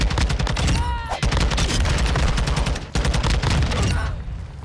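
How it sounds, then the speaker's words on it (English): Rapid automatic gunfire in Call of Duty Modern Warfare on the Shoot House map, loud, close and nearly continuous, with a couple of brief breaks and some overlapping shots. "They're shooting at me."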